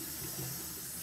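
Tap water runs steadily into a bathroom sink, a constant close hiss of flowing water with no other sounds.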